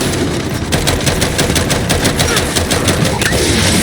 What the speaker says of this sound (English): You gotta deal with those turrets!